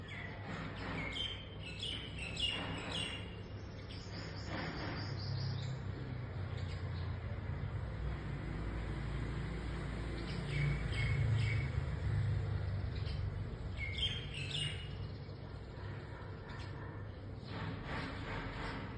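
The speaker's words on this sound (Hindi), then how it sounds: "पाकिस्तान आके जो ये चिड़ियों की खूबसूरत आवाज़ें होती हैं ये मुझे बहुत अच्छी लगती हैं" Small birds chirp and tweet on and off outdoors in Lahore, Pakistan, over a low, steady background rumble, the calls light and somewhat distant.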